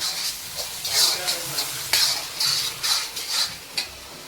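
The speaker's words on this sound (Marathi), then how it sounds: "शेजवान चटणी आता मस्त की मिक्स करून घेऊया" Schezwan chutney is stirred into crab chilli frying in a pan, with a steady sizzle and rhythmic scraping strokes of a spoon against the pan, close and moderately loud.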